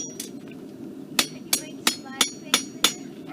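A farrier hammers a hot horseshoe on the horn of an anvil, six sharp metallic ringing strikes in an even rhythm, close and loud, after a couple of lighter taps.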